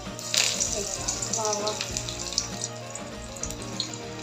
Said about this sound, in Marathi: हाताने आणि मीडियम फ्लेमवरच तळून घ्यायचं आहे